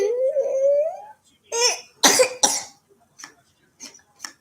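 A baby gives several short, raspy coughs in quick bursts, close by, following a rising whimpering cry, with soft clicks between the coughs.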